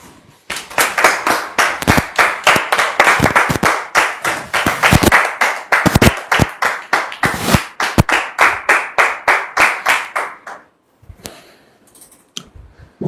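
A studio audience claps steadily for a guest pastor, with sharp, dense, rhythmic claps that continue for around ten seconds before fading out to quiet.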